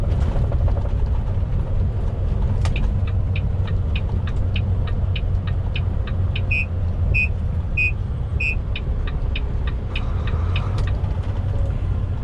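Steady low road rumble and engine drone of a truck sitting in slow traffic near the Grapevine, with a run of faint rhythmic high chirps and beeps repeating through the middle, no voices.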